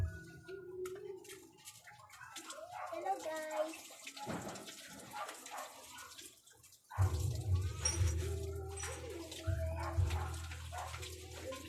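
Running water pours from a tap over food being washed while grilled tilapia is prepared outdoors, a steady splashing that grows louder midway, with a person talking and faint birds and a dog in the background.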